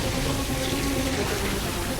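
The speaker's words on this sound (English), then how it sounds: "Spray the water down." A fire hose sprays water in a steady, dense rushing hiss during a firefighting scene, loud and continuous with no pauses.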